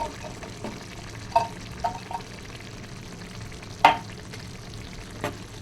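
Green peas stirred into ground meat frying in a pan, a steady low sizzle broken by a few scraping clinks of the spoon against the pan.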